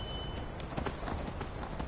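Horse hooves clip-clopping in the video game Skyrim, a steady, fairly quiet rhythm of repeated hoof strikes over a constant background hiss.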